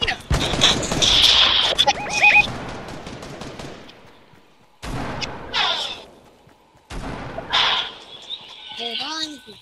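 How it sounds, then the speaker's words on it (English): Gunfire in a video game, bursts of rapid shots in the first few seconds followed by scattered shooting and other game noises, partly under talk. "I hear some shooting, guys. I can see the shooting."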